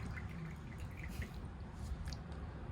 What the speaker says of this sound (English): I don't have a bell, so this is the bell by pouring tea.